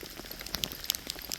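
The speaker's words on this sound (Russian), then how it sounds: "Довольно крупный град пошел." Large hailstones fall, producing a dense, irregular pattering of sharp ticks and clicks that is fairly close and continuous, with no voices.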